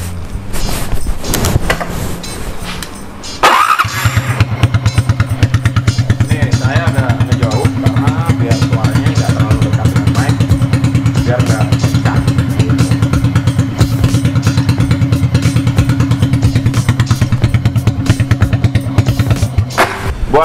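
Motorcycle fitted with a free-flow exhaust pipe, heard being started after a few seconds of clatter, then idling with a steady, loud, throbbing exhaust rumble that continues evenly to the end.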